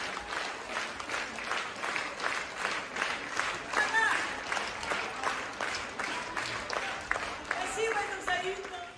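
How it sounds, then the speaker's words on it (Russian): Sustained audience applause fills a concert hall in Saint Petersburg after a performance, dense clapping rolling on steadily with a voice talking over it. "не утихают аплодисменты"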